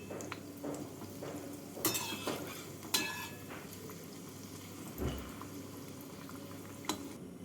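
Prawn balls fry in hot oil with a soft, steady sizzle and bubbling. Faint clinks and stirring knocks from the pan break in now and then, with no voices.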